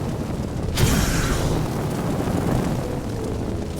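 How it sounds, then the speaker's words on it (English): A fireball thrown in the Minecraft Fisk's Superheroes mod gives a sudden whooshing burst that flares up, then settles into a steady fiery rumble lasting several seconds, with no talk. "if you right click, you can throw a fireball"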